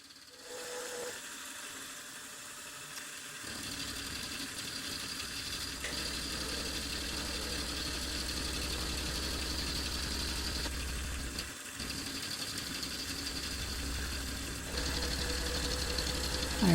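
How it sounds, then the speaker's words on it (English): Milling machine with an end mill roughing out a small brass part, a steady machine drone running throughout with a continuous bright cutting hiss layered on top, fairly close and with no talking. "this part isn't very big and brass is easy to cut"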